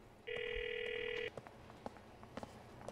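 An in-game mobile phone in Grand Theft Auto IV gives one short electronic ring tone for about a second, then cuts off, leaving faint background clicks and ambient noise.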